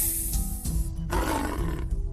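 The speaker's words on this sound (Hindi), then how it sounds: "और दहाड़ता हुआ शेर बनी नागिन वहां से चली जाती है।" A lion roars loudly in a dense, rumbling burst, joined by thick low growling and rushing noise, part of a dramatized jungle scene in a Hindi folk tale about a shape-shifting snake woman who has become a lion.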